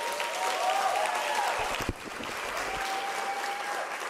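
Graduates clapping for themselves at a UNISA autumn graduation ceremony in an indoor hall, a steady wash of many hands with a brief thump partway through and a faint tone lingering in the room.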